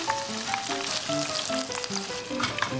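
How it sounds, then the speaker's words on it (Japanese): Karaage sizzles and crackles steadily in hot oil, a dense bubbling hiss with scattered pops, close and unbroken, no talking. "じゃあ揚げていきましょう。"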